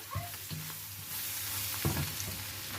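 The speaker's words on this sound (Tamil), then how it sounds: "இப்போ நான் இதெல்லாம் வதங்கி வந்துடுது" Ingredients for tuna noodles sautéing in a pan, a steady close sizzle with a few louder stirring scrapes and clatters of the utensil against the pan.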